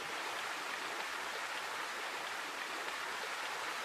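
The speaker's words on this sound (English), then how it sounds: "Think of this water being channeled down in this marvelous staircase of water made by dolphins" Water rushing steadily down a stone garden water staircase at Villa Farnese, a cascade channel decorated with dolphin sculptures, producing a constant broad splashing roar with no pauses, close and fairly loud, with no voices.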